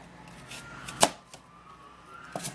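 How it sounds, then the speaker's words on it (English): A kitchen knife cuts through a fruit to remove the seed, one sharp cutting crack standing out near the middle with a couple of fainter knocks around it. "to remove the seed I'll have to cut it this way"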